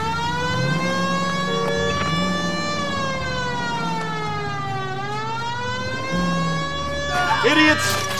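Police car siren in the video game LA Noire wails loudly and steadily throughout, its pitch sweeping slowly down and back up, with game car engine rumble beneath and a brief burst of clatter near the end.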